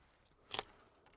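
Pruning shears cutting an apple tree branch in an intensive super-spindle orchard on M9 T337 rootstock, a single sharp snip, brief and fairly quiet.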